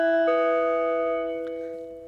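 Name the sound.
Anchor app attention sound effect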